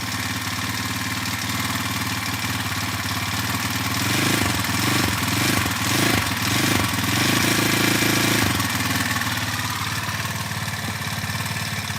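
A tiny four-stroke nitro engine runs steadily at idle and close by, a harsh, continuous buzzing drone that rises a little in intensity midway before settling again.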